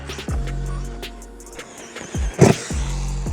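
An Arrma Gorgon 223S BLX 2WD RC monster truck blasts past at full throttle, its electric motor whining loudly in a few close surging bursts with a sharp clattering hit midway.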